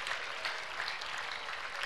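A church congregation claps together in a sustained, dense burst of applause, loud and even throughout with no pauses and no talking over it.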